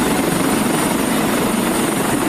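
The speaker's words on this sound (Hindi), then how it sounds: "इसके साथ ही हेलीकॉप्टरों के जरिए बाढ़ से प्रभावित इलाकों में राहत सामग्री भी भेजी गई।" Helicopter flying over a flood-hit relief area, its rotor and engine making a loud, steady broadband roar that holds at even strength from start to end, with no talk.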